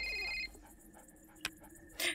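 A phone rings in a FNAF: Security Breach map in a video game, with a short electronic ring tone at the start followed by a few faint clicks and blips in an otherwise quiet scene.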